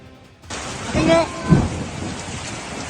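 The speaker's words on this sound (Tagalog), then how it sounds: "Umuulan ng yelo. Grabe. Umuulan ng yelo." Hail and heavy rain pound down during a hailstorm in Bacoor, Cavite, a dense, steady hiss that begins abruptly and runs throughout, with brief voices rising over the downpour partway through.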